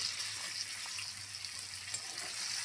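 Boiled gathi kochu (taro) pieces frying in hot oil with tomato in a pan, a steady, fine hissing sizzle that stays even and moderately quiet throughout.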